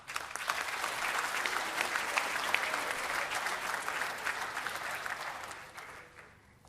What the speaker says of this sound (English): let us give a roaring applause for our candidates